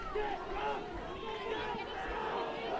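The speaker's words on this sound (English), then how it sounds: "The crowd is going wild." A crowd roars steadily at a boys' varsity high school football game against St. Mary's, a dense wash of cheering and shouting voices holding at a constant level throughout, with no single voice standing out.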